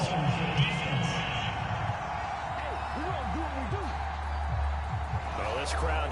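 Stadium crowd in Madden 22 football game murmuring and reacting to a penalty call, a broad steady roar with a few louder swells, heard under a commentator's voice.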